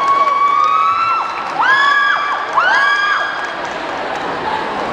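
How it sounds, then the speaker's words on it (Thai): An audience at a Thai anniversary charity auction breaks into cheering and whoops, a brief swell of crowd voices that rises twice and then fades back into murmuring. "ทุกคนปรบมือให้สักครั้งหนึ่งนะครับ"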